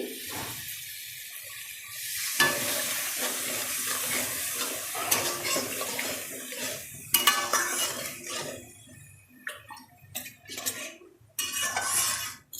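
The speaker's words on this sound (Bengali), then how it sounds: "এরপরে জল দিয়ে দিচ্ছি" Water poured into a pan of cooked potatoes, a hissing splash and bubbling with clinks of a utensil against the pan, stopping and starting in bursts.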